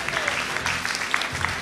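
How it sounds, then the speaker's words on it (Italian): A burst of applause at a television talent show finale, many hands clapping steadily at moderate volume from an audience. "Un applauso allora a Giuseppe Sternaccio."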